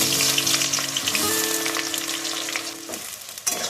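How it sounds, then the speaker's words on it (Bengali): Chopped onions dropped into hot oil with cinnamon, cloves and garam masala for chicken do-pyaza, sizzling and frying steadily and loudly up close, the hiss easing slightly near the end before a brief stir. "এর মধ্যে আমি অ্যাড করে দিচ্ছি কুচনো পেঁয়াজ"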